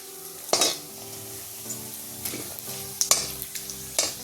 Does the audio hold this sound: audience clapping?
no